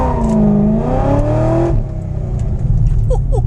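A C6 Corvette fitted with a Yank 3600 torque converter revs hard during a stall test, engine note climbing steadily before dropping off into a lower idle rumble, loud and close with no talk.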